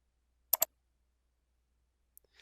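Two rapid mouse clicks on a 'turn off' button in Evernote's sharing settings, a crisp close double tap followed by near silence with a couple of faint ticks.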